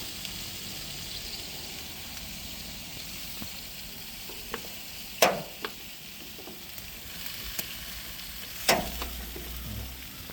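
Barbecue skewers cook over a grill with a steady, fairly quiet sizzle and crackle, broken by a few sharp pops and clicks as the sticks are turned.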